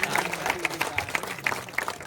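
Audience at a local cricket tournament prize ceremony claps in a scattered, moderately distant burst of applause, individual sharp claps standing out over a low murmur of crowd noise.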